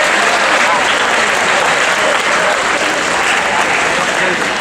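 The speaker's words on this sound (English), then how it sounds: "give yourselves a round of applause" Loud, dense applause fills a school athletic assembly, a large crowd clapping continuously and evenly, with faint voices mixed into the roar.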